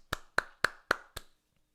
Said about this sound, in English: Whoever wrote this gets a huge fucking round of applause from me